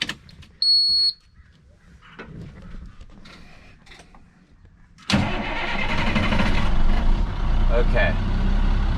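A BR 122 engine is started: a short electronic beep, some quiet handling noises, then the engine catches abruptly and settles into a loud, steady running roar, close by.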